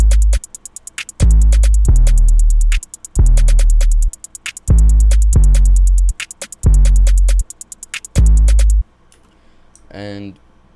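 Pluggnb beat drums on their own: loud, punchy deep kicks in a steady repeating pattern under a constant fast ticking hi-hat, running about nine seconds before stopping, followed by a brief voice.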